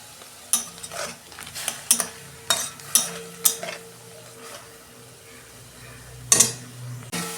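Prawns fry in a pan with salt and turmeric, a soft sizzle running under repeated sharp scrapes and clinks of a spatula against the pan, with no talking.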